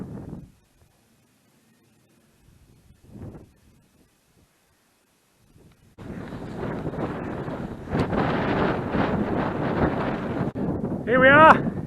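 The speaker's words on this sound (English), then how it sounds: "It's blowing a gale" A gale on the open top of Dunsop Fell roars and buffets the microphone for the second half, after a quiet stretch with brief bits of a voice.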